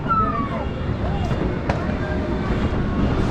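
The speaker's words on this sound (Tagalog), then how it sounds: "Ilang nga fireworks." Fireworks bursting over a New Year celebration in Taal, Batangas, with sharp distant pops and a whistling rocket rising through a steady wash of crowd noise and murmuring voices.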